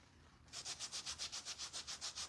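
After a brief pause, rapid, even back-and-forth sanding strokes rasp close by on a gingerbread-figure craft piece in a steady rhythm.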